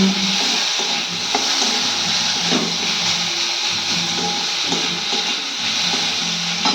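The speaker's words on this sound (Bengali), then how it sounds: "মাছটা ভালো করে ভেজে নিচ্ছি" Fish fries in a pan with onions, a loud continuous sizzle and hiss filling the space, broken now and then by faint scraping or stirring taps, close up with no talk.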